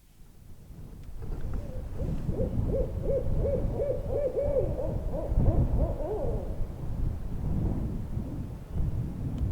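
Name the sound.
owl hooting sound effect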